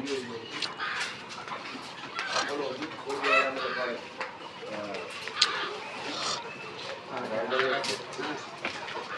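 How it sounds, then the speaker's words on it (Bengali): Layer hens in cages built over a pond cluck and call in short repeated bursts at moderate distance, while someone talks over them throughout. "সেই ঘরে মুরগি রয়েছে"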